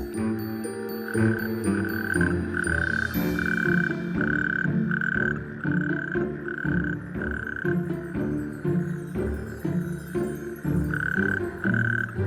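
A large male toad calls in the Welsh wild, a loud, continuous pulsing croak repeating steadily across the whole stretch, with other frog or toad voices layered underneath.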